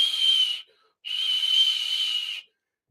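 A voice imitating the high-pitched whistle of a narrowed dialysis fistula, like a tea kettle, with two steady breathy whistles, one short and one longer, separated by a brief pause.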